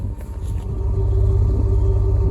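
A steady, low engine rumble from a 2020 Ford F-150 pickup's 3.5 EcoBoost twin-turbo V6 idling nearby, smooth and fairly quiet with no revving.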